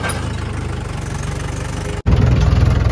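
A farm tractor runs in a field with a steady, throbbing engine note, loud and close, cutting out briefly before returning even louder.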